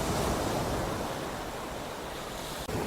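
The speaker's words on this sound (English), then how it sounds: "just try and capture the wash as it's receding and going backwards" Sea wash receding down Folkestone beach in the early morning, a steady broad hiss of water and surf with light wind, close and continuous with a brief click near the end.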